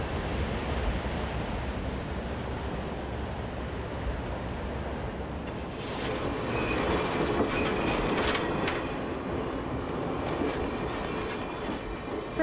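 An overnight passenger train rolls along the rails from Gaspé in 1994 Canada with a constant low rumble and soft clatter, growing busier midway with squeaky metallic squeals and rattles.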